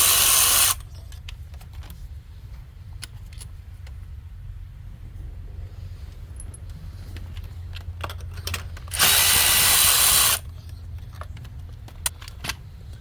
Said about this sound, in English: I'm going to be screwing out spark plugs